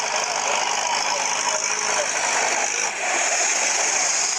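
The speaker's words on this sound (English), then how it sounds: "This is the Marak engine." A Marak engine runs steadily at a gold mining pump site, a loud continuous mechanical roar with a dense hiss and no pauses, heard up close with no voices over it.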